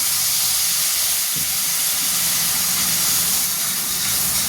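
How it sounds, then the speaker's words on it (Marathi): Tamarind water hits a hot pan while upma is being made, giving off a loud, continuous steamy hiss that holds steady throughout with no voices. "त्यानंतर चिंचेचं केलेलं पाणी टाकून घेऊ."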